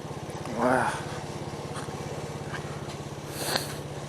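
A motorcycle engine runs steadily with a low, even throb throughout a road trip through southern Mexico toward Veracruz, with a brief voice-like swell near the start and a short hiss later.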